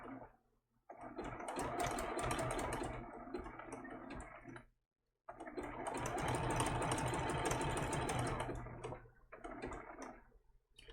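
A sewing machine stitches a baby turtle appliqué in two fast, steady bursts of rapid mechanical whirring and ticking, separated by a brief pause and tapering into shorter runs at the end.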